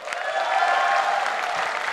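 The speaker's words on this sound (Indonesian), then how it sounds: "Tolong tepuk tangan untuk Diki." An audience at a stand-up comedy show bursts into dense, steady applause, many hands clapping loudly and close together for the whole stretch, with a little crowd murmur beneath.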